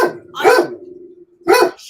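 A dog barks at someone at the door, two loud, close barks separated by a short pause, with no talking.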